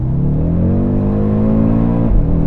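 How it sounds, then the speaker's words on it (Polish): An Audi RS3 five-cylinder engine revs hard on a driving day out on public roads, a loud, steady rising growl heard up close with a brief dip and surge near the end and no talk. "Silnik brzmi niepowtarzalnie, tak jak właśnie w Audi RS3"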